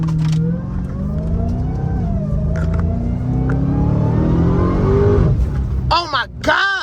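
Supercharged 2021 Dodge Charger SRT Hellcat Redeye engine accelerating hard, a loud steady rumble with rising pitch that swells near the end, while someone talks over it throughout.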